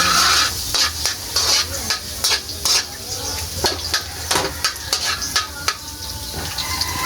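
Sliced onions sauté in a pan for a hotdog-with-egg breakfast, a steady close sizzle broken by repeated scraping stirs and clinks of a utensil against the pan.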